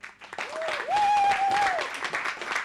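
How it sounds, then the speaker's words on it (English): Audience at a live-streamed documentation talk gives a round of applause for a speaker, soft steady clapping under a voice that speaks across it. "a big, big, big round of applause for my man Devin"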